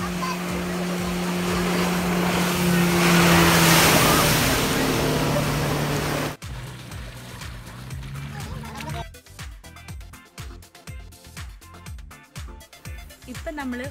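A speed boat rides across the Kakkayam Dam reservoir, with a loud, steady rush of wind and water for about six seconds before it gives way to quieter, choppy handling noise.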